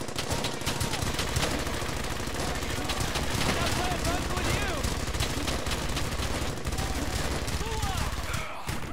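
Machine-gun fire and rifle shots crackle continuously and loudly in the World War II shooter Brothers in Arms: Hell's Highway, with voices shouting over the battle.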